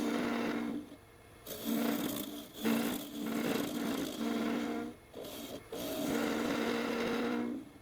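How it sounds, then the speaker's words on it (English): A gouge hollows one half of a very hard, fully dried hardwood baby rattle spinning on a lathe, making a steady scraping, rasping whine broken by brief pauses as the tool lifts off and re-engages, close and moderately quiet. "I begin hollowing the mounted half of the rattle, the side that still includes the handle"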